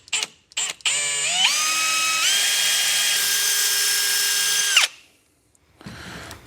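A power drill bores a hole through a countertop of stainless steel over a wood core, a loud close rising whine that holds steady for a few seconds, then stops, with brief clicks before and after.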